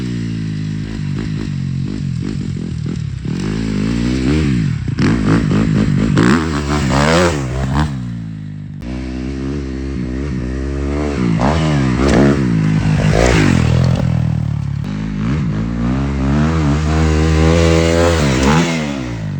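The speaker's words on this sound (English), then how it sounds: "some clips that I've been filming with my buddies of me riding my brand new dirt bike" A brand new dirt bike engine revving and changing pitch as it is ridden, loud and continuous for the whole stretch, with rising and falling throttle sweeps and no talking.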